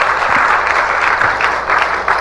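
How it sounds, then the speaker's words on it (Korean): A church congregation applauds in honor of fathers, a loud, dense and continuous round of clapping from a full room throughout. "아버지를 위해서 박수 한번 하겠습니다"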